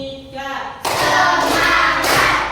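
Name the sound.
hand clapping, classroom clap game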